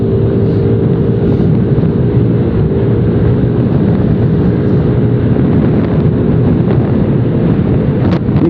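A Yamaha Aerox R 155 scooter accelerates on a morning ride in Bogor, its engine a steady, loud drone heavily buffeted by rushing wind noise across the microphone.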